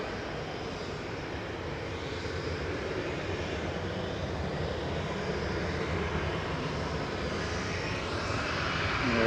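Iberia airliner departing Manchester Airport on its way to Madrid, a loud steady broadband jet engine roar that holds throughout and swells slightly toward the end, heard alone without talk.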